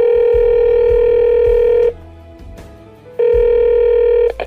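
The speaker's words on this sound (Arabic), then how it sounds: "زي ما سمعنا الاتصال اللي جالنا من الست ام عماد، يا ريت نكلمها لو سمحت" Two long ringback tones sound loudly as a telephone call is placed, steady buzzing bursts of nearly two seconds each separated by a quieter gap with faint background noise.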